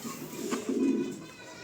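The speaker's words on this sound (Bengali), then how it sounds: "আসলে ড্যানিশ টাম্বলার কবুতরটা" Danish tumbler pigeons coo in a low, throaty burst that swells near the middle and fades, close by in a loft with faint background noise.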